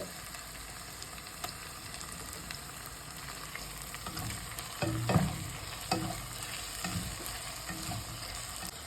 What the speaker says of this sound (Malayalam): ഇനി നമുക്ക് ഇഞ്ചി വെളുത്തുള്ളി എല്ലാം പേസ്റ്റ് ഇടാം കേട്ടോ.